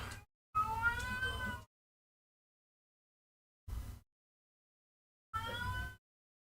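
A pet cat meows three times indoors, a long drawn-out cry followed by a brief one and another longer one, each clear and close, separated by silence.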